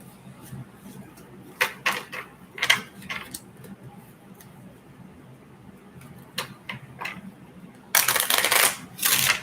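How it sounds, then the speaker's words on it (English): A deck of playing cards is handled and shuffled in a quiet room, giving scattered riffles and taps. A longer, louder burst of card noise comes near the end. "Let me get you a fresh shuffle here."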